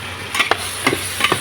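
Crab dish ingredients frying in a pan with ginger and garlic, stirred with a utensil: several distinct scraping stir strokes over a steady close sizzle, no talking.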